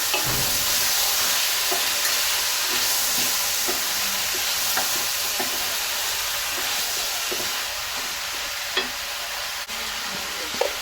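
Rohu fish curry with potatoes and beans is stirred in a pan, with a constant loud sizzling hiss and repeated scraping strokes at an even pace.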